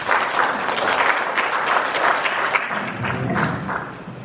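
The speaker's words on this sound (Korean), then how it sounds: "여러분 큰 박수로 맞으시기 바랍니다." Audience applause fills a public forum on restoring the Geum River as a presenter from the South Chungcheong provincial government comes forward, a steady dense clapping that holds loud throughout and eases slightly near the end.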